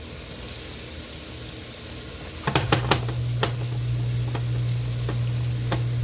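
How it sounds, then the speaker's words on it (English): Oxtails searing in a hot pan, a constant close sizzle with a few sharp clatters and taps partway through, followed by a low steady hum under the frying. "You want to sear them till they got that little crispy skin on them."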